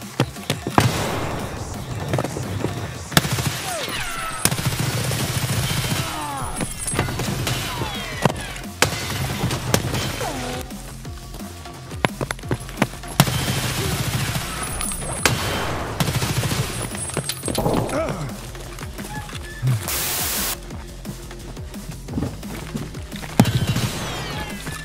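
Rapid gunfire bursts and scattered single shots from a video game firefight, irregular cracks over a busy background of game effects.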